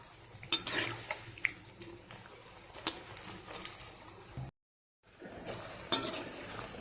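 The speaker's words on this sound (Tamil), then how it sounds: "இது நல்லா பொன்னிறம் ஆகிற வரைக்கும் ஃப்ரை பண்ணுங்க." Bitter gourd pakoda fries in oil until golden, with a soft sizzle under repeated clinks and scrapes from stirring, a brief silent gap, then more sizzle and a sharp clatter.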